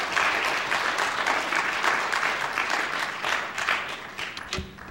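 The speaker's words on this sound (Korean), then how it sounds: "전도사님 나오실 때 한번 격려를 한번 뜨겁게 박수 한번 합시다" A church congregation applauds warmly for an evangelist, a dense, sustained clapping that stays lively and fades slightly toward the end, with no voices over it.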